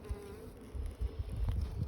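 Honey bees buzzing around a brood frame lifted from a hive, a dense, close, continuous droning hum that swells and fades slightly over a couple of seconds, with no talk.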